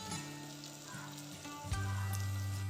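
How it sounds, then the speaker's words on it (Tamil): Kashmiri chili powder and a little salt fry in hot oil for a paneer and peas pulao, giving a steady close sizzle that swells louder and fuller in the second half. "இதை ஆயிலில் ஃப்ரை பண்ணி எடுத்துக்கலாம்."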